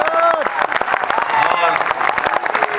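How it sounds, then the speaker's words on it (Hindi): Audience at a poetry event claps for poet Ashish Sharan, dense sharp hand claps spread across the whole moment, with a voice speaking over the applause. "एक बार जोरदार तालियां आशीष शरण के लिए बजाइएगा"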